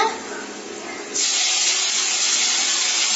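Curry leaves dropped into hot oil for bread upma, setting off a sudden loud, bright sizzle that jumps up after a quieter hiss and keeps crackling steadily.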